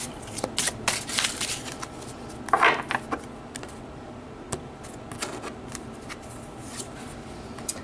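A deck of tarot cards is shuffled by hand close up, giving quick papery riffles and flutters in short bursts with brief pauses and light taps between them.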